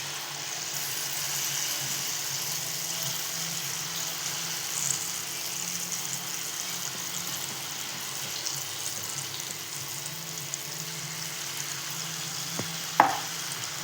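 Sweet wheat flour snacks frying in a pan of oil, giving a steady, even sizzle that continues throughout, with one sharp clink of a utensil near the end.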